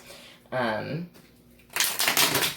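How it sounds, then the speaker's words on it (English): Tarot cards are shuffled in two quick riffling bursts, close up, with a short stretch of quiet between them and a faint voice earlier. "I'm just going to go and shuffle it one more time"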